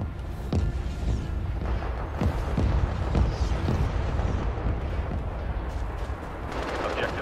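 Video game battle with sustained gunfire and machine-gun bursts mixed with heavy artillery booms, loud and continuous throughout, dense overlapping shots and rumbling impacts with no clear pauses.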